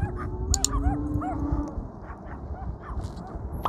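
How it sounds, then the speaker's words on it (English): Young puppies bark and yip in short, high, excited bursts, several overlapping, close by over a rough outdoor background rumble. "Let's get a good view of the puppies."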